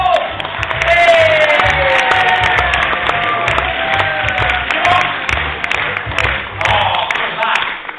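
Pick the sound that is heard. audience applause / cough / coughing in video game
audience applause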